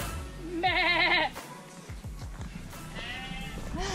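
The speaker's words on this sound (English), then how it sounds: "Oh, sheep!" Sheep bleat on a farm along the Wye Valley countryside: a long, wavering bleat up close, then a second fainter one a couple of seconds later, with footsteps and outdoor rustle between.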